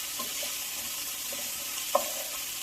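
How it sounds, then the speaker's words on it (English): Cooked meatballs and cut carrots sautéing together in a pan, a quiet, steady sizzle with a few light stirring clicks and one sharper knock near the end, no voices. "I'm going to let these saute for about 5 to 6 minutes"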